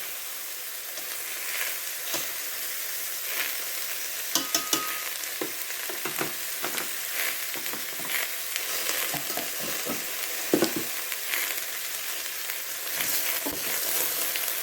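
Squash and shrimp fry in a pot with a steady, close sizzle and scattered pops and crackles.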